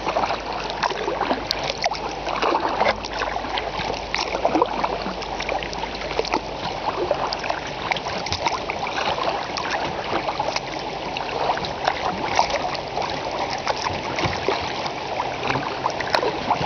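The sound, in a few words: kayak moving through water near rapids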